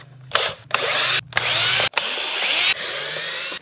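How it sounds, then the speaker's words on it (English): A power driver backs Phillips screws out of a Honda Grom's fender in four loud, close whirring bursts separated by brief pauses. "So next we're gonna be removing some Phillips screws."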